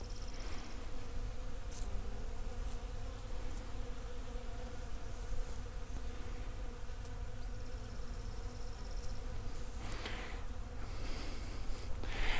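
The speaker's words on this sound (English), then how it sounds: "Lots of bees here, beautiful." Bees buzz steadily among blooming peach and other fruit trees in a food forest orchard, a continuous close insect hum throughout with a few louder passes as individual bees fly near.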